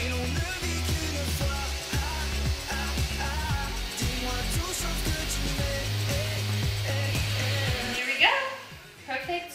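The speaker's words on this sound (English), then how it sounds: "I'm going to use a handheld mixer and I'm gonna put it in the very high speed" Handheld electric mixer running at very high speed, whipping egg whites with a pinch of salt for chocolate mousse; a loud, steady motor whir with beater rattle holds for most of the clip, then winds down near the end.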